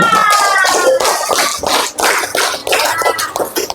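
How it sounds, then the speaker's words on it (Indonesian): Children in a primary school classroom clap their hands together, a loud, close burst of dense, uneven clapping mixed with excited young voices. "Oke, tepuk tangan."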